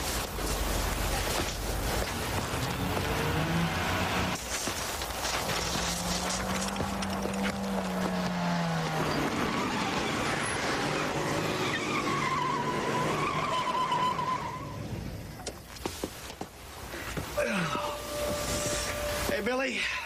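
A car pulls up with skidding, squealing tires, the screech rising over a busy mix of engine noise and background sound, with people talking.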